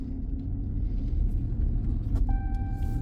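A pickup truck on all-terrain tires rolls through snow with a steady low engine rumble and road noise, close and continuous, with a short tonal whine near the end.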